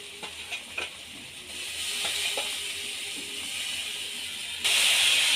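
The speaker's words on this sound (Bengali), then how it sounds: "এবার বেটে রাখা টমেটো, আদা আর জিরে দিয়ে দেব।" Ground tomato, ginger and cumin paste hits hot oil in a frying pan, a steady hiss that swells louder partway through, with a few faint clinks of stirring.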